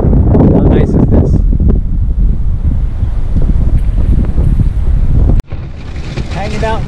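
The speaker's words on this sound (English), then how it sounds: "got some crazy wind coming up" Strong wind buffets around a truck parked by a river on an overlanding fly-fishing trip, a loud roaring rush with heavy microphone noise that cuts out abruptly, then a softer background with a faint voice.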